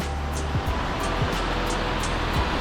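A mountain river near Lares, Peru, rushes in a broad, constant roar, close and loud, with wind-like hiss over the water and a few faint passing thumps.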